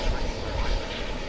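An American Airlines wide-body jet approaching DFW Airport gives a loud, steady low engine roar heard close by, with a voice talking over it.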